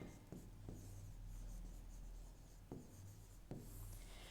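Handwritten chemistry, a cathode reaction, scratches quietly and close up with a pen on paper, and a few sharper taps of strokes stand out from the soft rubbing.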